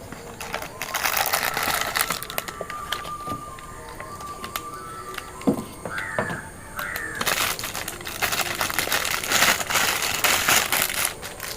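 A boxed Pulsar 150 CDI unit for a 2018-stock motorcycle is unpacked up close, with loud crinkling packaging, crushing cardboard and rustling, plus a few brief mechanical clicks.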